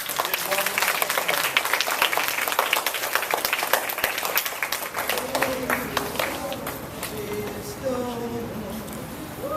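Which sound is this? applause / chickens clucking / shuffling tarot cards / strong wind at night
applause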